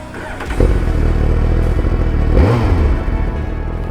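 A Suzuki GSX-R1000 motorcycle engine cranks briefly and fires up close by, settling into a throaty idle, then gets a quick rev blip that rises and falls.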